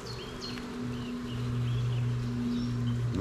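Honeybees buzzing around production hives during an inspection, a dense steady drone of many insects close by, with individual bees flitting past and distant birdsong faintly behind.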